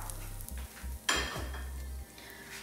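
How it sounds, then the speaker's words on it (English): Heated mustard oil lands on a chickpea flour and potato mixture, giving a sudden close sizzling hiss that fades over a second or two, with a faint low hum and a few light clinks around it. "I'm adding this mustard oil that I just heated"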